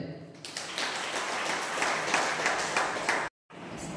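A crowd at a prayer gathering breaks into loud, sustained clapping in thanks to Jesus, a dense rippling wash of claps that cuts off abruptly near the end before resuming.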